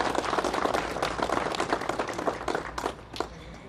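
An indoor audience claps, a short burst of dense applause that fades toward the end, at the opening of renovated premises.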